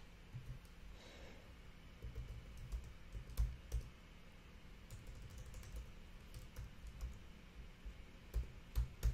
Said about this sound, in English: I'm just typing in the file name.